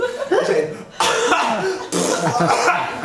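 A voice imitates a string of coughs in a public toilet: three loud, close, raspy bursts of about a second each, separated by brief pauses.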